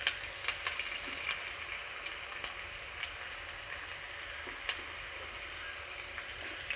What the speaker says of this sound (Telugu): కొద్దిగా కరివేపాకు వేసుకుందామండి.